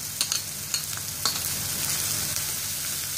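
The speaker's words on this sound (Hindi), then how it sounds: "फ्राई करना है उसका स्मेल जाने के लिए" Ginger garlic paste frying in butter in a pan, a steady close sizzle with occasional stirring scrapes and light pops.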